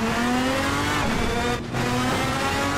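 A modded race car in Assetto Corsa, running on cold tyres, holds a loud, sustained engine drone with a brief dip before surging again, heard alone without talk.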